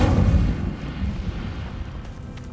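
Incendio fire spell cast in Hogwarts Legacy: a loud, low whooshing burst of flame at the start that rumbles and crackles as it fades over a couple of seconds.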